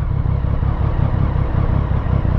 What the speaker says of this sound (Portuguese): Ai, como eu amo essa moto.